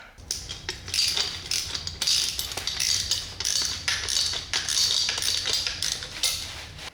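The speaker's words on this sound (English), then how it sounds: "Fasteners on. Time for the wrench." A ratchet wrench tightens fasteners on a BMW S1000RR rear sprocket, giving repeated quick clicking strokes in short bursts, close and fairly loud without talk.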